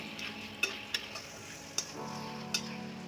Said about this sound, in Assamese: আৰু গোটেইখিনি মিক্স হৈ এতিয়া মই অলপমান ভাজি ল'ম